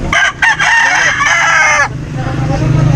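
A rooster crows loudly and close by at an animal market in Angeles City, Philippines, a long drawn-out call, with hens clucking around it and a brief murmur of voices after.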